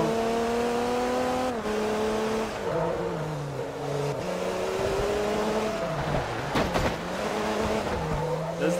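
A racing car in Forza Motorsport 3 runs off-road, its engine droning steadily with rising and falling revs, gear shifts and brief tire skids, loud and close throughout.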